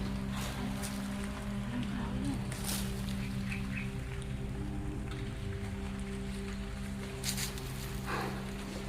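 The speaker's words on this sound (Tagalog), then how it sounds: "Ulan na naman." Rain patters steadily outdoors in a soft, continuous wash, with a few louder drops and faint background noises but no clear talk.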